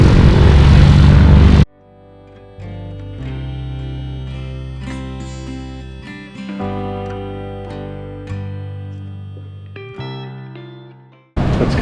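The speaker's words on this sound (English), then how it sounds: "the plane is about to take off on the beach" A propeller plane takes off from a beach on K'gari (Fraser Island), its engine droning loudly in steady, shifting tones between bursts of wind noise at the start and end.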